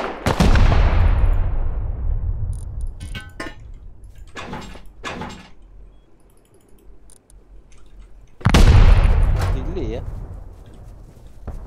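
Two heavy booming gunshots from the game Rust land several seconds apart, each with a long rumbling tail, and brief clattering bursts and a murmuring voice sit in the quieter stretch between them.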